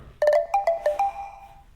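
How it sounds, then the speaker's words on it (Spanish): Mastercard's successful transaction chime: a short run of bright, closely spaced electronic tones rising into a sustained final note, clear and alone without talk. "Así es como suena una transacción exitosa de Mastercard."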